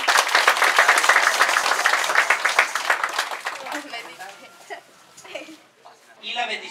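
A church congregation applauds children just baptized, a burst of brisk clapping that fades after a few seconds into scattered murmurs and talk.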